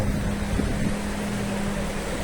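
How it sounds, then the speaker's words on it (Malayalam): A passenger boat carrying people off Kozhikode beach: a continuous low engine drone mixed with wind rumble and a broad wash of open-air noise, steady and unbroken, with no voices. "ഇതാ ഇതുപോലെ അവർ ആളുകളെ ബോട്ടിൽ കയറ്റി കൊണ്ടുപോയിട്ട്"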